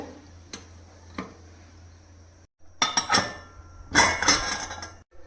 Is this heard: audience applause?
no